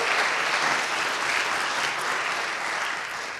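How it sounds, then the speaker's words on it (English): A live audience at an art talk gives the speakers a warm round of applause, a dense, even roar of clapping that tapers slightly toward the end. "Give them a round of applause."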